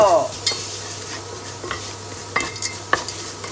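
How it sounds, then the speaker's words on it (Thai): Pounded garlic, whole peppercorns and cinnamon dry-roasting in a pan, a soft continuous sizzle with close metal scrapes and clinks from a spatula stirring at irregular intervals. "คั่วแล้วเราก็ใส่สามเกลือที่เราตำไว้เมื่อกี้ค่ะมีกระเทียมมีพริกไทยเม็ดค่ะ คั่วให้หอมค่ะคั่วกับไอ้อบเชย"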